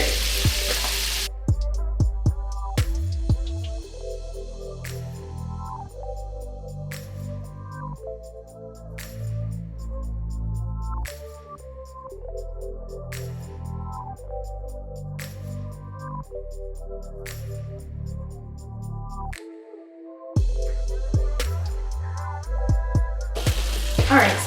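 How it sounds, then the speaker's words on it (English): Garlic, onion and carrot frying in melted butter in a pan, cooked for shrimp fried rice, a steady soft sizzle running beneath louder rhythmic background music for most of the stretch. "we're gonna add our garlic and our onion and"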